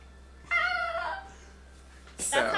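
A human voice imitating a cat, drawn-out meow-like vocal sounds alone, a long one followed by a short sharper one after a pause.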